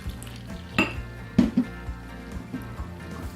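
A spoon scrapes and clinks against a bowl while stirring homemade play dough mixed with boiling hot water, a few distinct knocks over soft, wet mixing sounds, close and fairly quiet.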